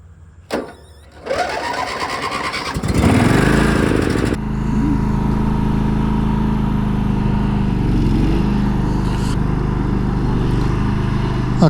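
Small lawn mower engine starting with a couple of pulls and sputters, then revving up and settling into a loud, steady drone close by.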